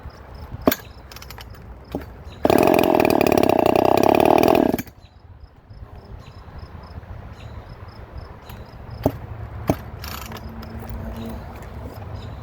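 An Echo CS4910 chainsaw running a swapped crank and piston makes a test cut: one loud, roughly two-second burst of high revving and cutting, framed by quieter outdoor background with scattered clicks and knocks.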